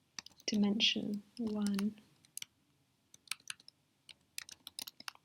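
Crisp keystrokes on a computer keyboard come in sparse, quiet clicking bursts, scattered singly and in quick clusters, following a short stretch of speech.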